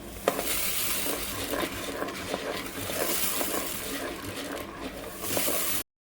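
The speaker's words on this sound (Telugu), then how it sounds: "ఇలా మరమరాలు వేసేటప్పుడు అండి కలుపుతూనే ఉండాలి ఆపకండి" Puffed rice is stirred steadily through hot syrup in a pan, giving a continuous dense rustling, crackling sizzle close up with faint scraping, then a sudden cut to silence near the end.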